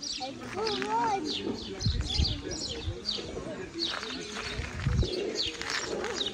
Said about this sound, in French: Vous entendez les chants des oiseaux?